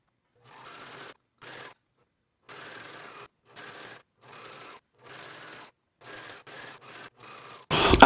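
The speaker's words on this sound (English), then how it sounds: "we're going to top stitch all the way around on the right side using a stretch stitch" A sewing machine running a stretch-stitch topstitch around a tank or dress, in short bursts of steady whirring separated by brief pauses, close and alone, ending in a louder burst of noise.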